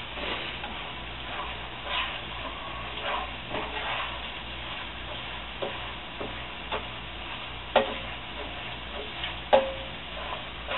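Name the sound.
beef fried rice frying and being stirred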